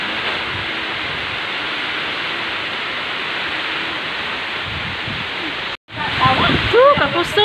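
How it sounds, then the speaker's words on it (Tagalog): Heavy, windy rain pours down in a steady, loud roar, then cuts out for a moment before returning under nearby voices talking over the downpour. "Oh, kakusog sa ulan."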